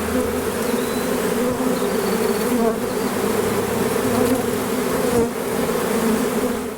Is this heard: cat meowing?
no